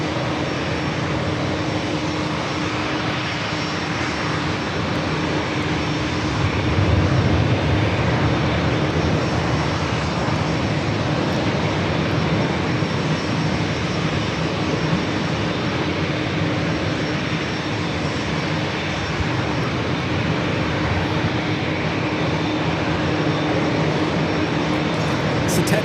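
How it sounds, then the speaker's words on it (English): A Japan Airlines Boeing 787-8 Dreamliner takes off at an airport, a loud, sustained jet engine roar that holds steady throughout. "It's a 10-year-old Dreamliner, 787-8 Dreamliner, delivered in May of 2015 to Japan Airlines."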